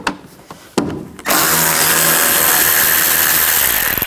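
A power tool runs continuously and loudly at close range, driving a T20 socket to back out screws along the top of a panel on a 2009-17 Chevy Traverse, preceded by a few short clicks and handling knocks.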